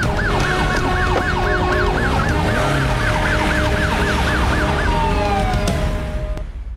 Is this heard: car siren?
yes